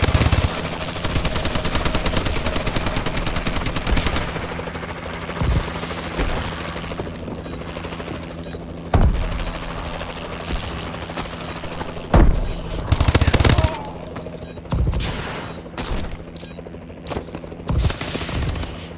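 Warbird aircraft in Call of Duty Advanced Warfare, bursts of heavy automatic gunfire and booms over a continuous engine drone, with loud hits recurring irregularly throughout.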